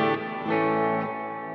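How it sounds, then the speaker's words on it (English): A sustained electric guitar chord swells with a washy, shimmering reverb tail, tones blending and ringing out smoothly. "huge special effect kind of reverb that I use sometime when you're doing that ambient kind of stuff."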